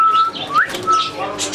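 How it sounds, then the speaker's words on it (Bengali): In a Dhaka bird and aquarium shop, Australian doves give short, loud whistled calls with a rising chirp, close and clear, among a busy shop background. "অস্ট্রেলিয়ান গুগু বলে এগুলিকে।"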